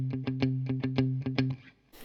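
Distorted electric guitar, a Stratocaster, plays a chugging rhythm of short muted hits. The crunchy chord stabs are close and loud, then cut off with a brief scrape at the end.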